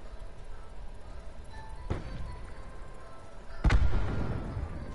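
Gunfire in Call of Duty Black Ops 4 Blackout: two sharp shots, a lighter crack followed later by a heavier boom with a rumbling tail, heard over steady in-game ambience.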